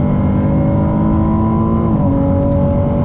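A Ferrari 296 GTB accelerating at full throttle on a track, its engine a loud, steady roar heard from close by with a rising harmonic drone and a brief gear-change dip partway through, no voices.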